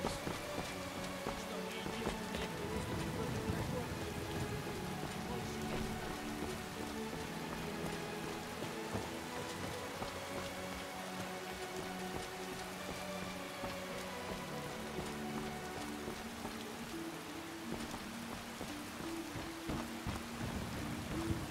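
Heavy rain pours steadily in Skyrim, a dense, continuous hiss of drops on surfaces filling the whole stretch at an even level, with no talk over it.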